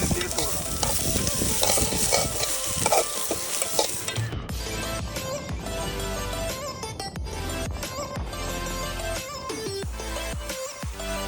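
Chopped beans and onion with turmeric fry in a pan, a steady bright sizzle with stirring scrapes; partway through, soft music begins playing over the cooking.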